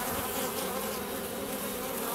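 Honeybees buzz steadily at a hive entrance, a dense, continuous swarm drone of many insects close by, with no talk over it.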